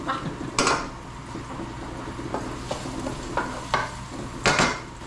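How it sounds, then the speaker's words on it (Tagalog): Fried rice being cooked in a pan, a soft continuous sizzle broken by several sharp scrapes and clanks of a utensil stirring against the metal, close by and without speech. "Fried rice lang naman ang niluluto pag ganun-ganon."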